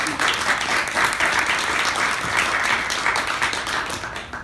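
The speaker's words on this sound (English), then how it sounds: "You should applaud yourselves because there's really good people." A luncheon audience bursts into dense, sustained applause, loud and close, with many hands clapping evenly for over four seconds before it begins to fade slightly at the end.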